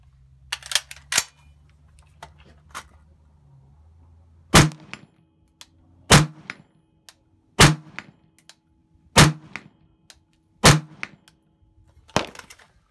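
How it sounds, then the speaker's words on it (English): Cherry Bomb rounds fired from an AR-15 rifle at a steel target 100 meters away: five sharp, evenly spaced gunshots about every 1.5 seconds, each with a ringing metallic clang, plus a few light handling clicks at the start. "5 rounds from the cherry bomb, 100 meters at a steel target."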